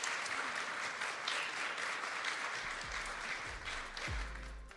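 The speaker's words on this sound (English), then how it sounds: "give it a round of applause for these guys" Applause from an audience thanking panel speakers after a discussion on regenerative public goods; a dense, continuous clatter of many hands, fairly faint and distant, with a low voice starting to come in near the end.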